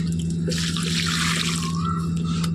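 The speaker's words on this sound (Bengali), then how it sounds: "গাছগুলো ভালো করে জল দে" Water splashes steadily onto garden plants, a continuous close gush with a constant low hum running underneath and no voices.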